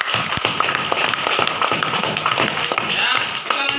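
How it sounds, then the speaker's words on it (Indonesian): A classroom group claps hands in applause, a dense, continuous patter of many claps lasting several seconds, fairly close and loud. "Beri tepuk tangan."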